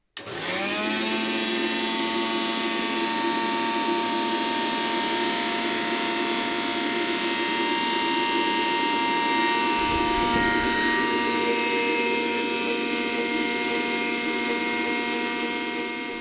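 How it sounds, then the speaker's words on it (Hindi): A 750 watt Zunvolt mixer grinder motor rated at 22,000 rpm spins up quickly and then holds a loud, steady, high-pitched whine for the full run. "अब मैं आपको ये जो मोटर है इसको दोबारा से चलाकर फिर से दिखा देता हूँ"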